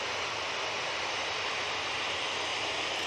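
A Ryanair jet departs Manchester Airport bound for Brussels, giving a continuous, even roar of engine noise at moderate distance with no talk.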